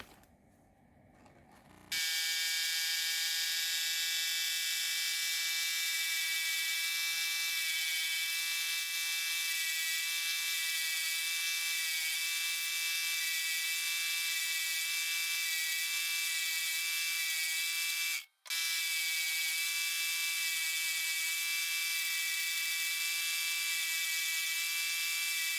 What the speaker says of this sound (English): The end mold is really cutting like